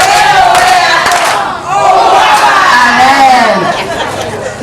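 A large crowd at an NGO agency opening ceremony loudly cheers and acclaims the staff with a roaring mix of shouts, ululating cries and chatter. The sound stays close and dense, dips briefly, then surges again.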